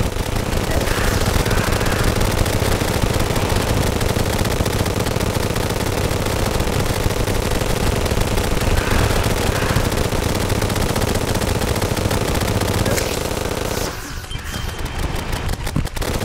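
A chain gun fires nonstop in the Terraria video game during a Pumpking wave, a dense rapid rattle of synthetic shots lasting over thirteen seconds before cutting to quieter crackling game effects.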